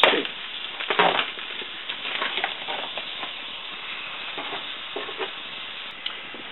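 Ground turkey frying in garlic oil in a pan for turkey chili, a steady close hiss and sizzle with occasional scraping stirs and small pops, continuing on its own without talk.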